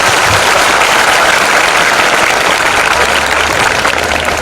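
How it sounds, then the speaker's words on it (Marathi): A Marathi lecture audience applauds to welcome a guest speaker. The clapping is dense and steady at full loudness for the whole stretch, with a low engine-like rumble underneath and no voices. "साहेबांचं आपण सगळेजण टाळ्या वाजवून स्वागत करूया."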